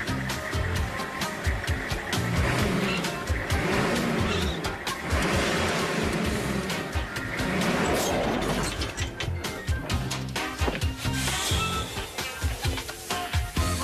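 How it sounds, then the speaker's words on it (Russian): A car pulling away as the clutch is released and the gas pressed: a loud, rough engine revving with clattering, crunching mechanical noises and what sounds like skidding over about fourteen seconds. "Плавно отпускай сцепление, нажимай на газ."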